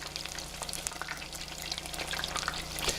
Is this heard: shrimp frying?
yes